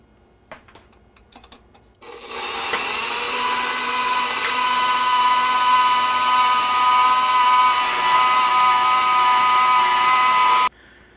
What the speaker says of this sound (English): I'm going to grind this up until all my beef is ground up